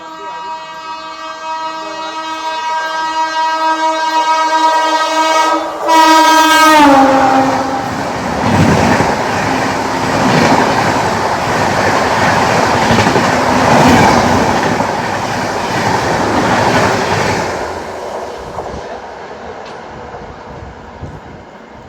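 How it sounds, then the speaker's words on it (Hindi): The Hyderabad–Pune Shatabdi Express overtakes on a parallel track, its horn blaring in a long falling tone before a loud, sustained rush and rumble of passing coaches that gradually fades. "हैदराबाद पुणे शताब्दी एक्सप्रेस हम लोग को ओवरटेक करने आ रही है।"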